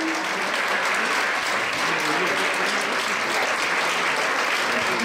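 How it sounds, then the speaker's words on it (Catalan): A hall full of people at a solidarity charity festival in Gironella applauds the organisers, a dense, loud, unbroken wash of clapping that holds steady throughout. "des de l'organització es mereixen ara un aplaudiment per haver fet"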